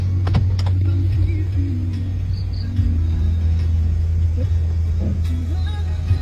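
A car engine idles in a continuous low hum as the vehicle slowly maneuvers to turn around, with faint clicks and small knocks over the steady drone.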